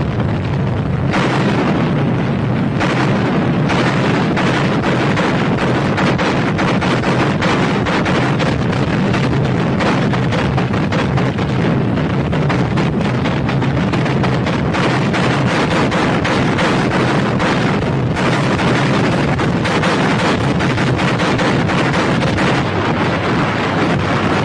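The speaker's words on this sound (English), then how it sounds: "A massive artillery barrage raged for 30 minutes to a depth of 10 to 12" An artillery barrage for the 1945 Battle of Seelow Heights: a continuous, very loud roar of overlapping booms and blasts rumbles without pause, with sharper bursts breaking through the heavy low-end wall of sound.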